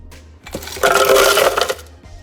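Ice cubes tumble into a cold coffee mixture of coffee, cocoa powder and sugar, making a loud, close, rattling clatter that lasts about a second before fading back to quiet.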